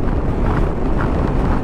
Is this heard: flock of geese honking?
no